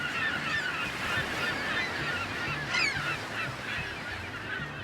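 Seabirds call from an island bird sanctuary in Southeast Alaska that holds hundreds of thousands of birds of many species, a dense, continuous chorus of honking, squawking cries heard from a distance.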